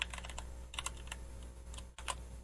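Typing on a computer keyboard: scattered key clicks in quick bursts with short pauses between, close and fairly quiet, no voices.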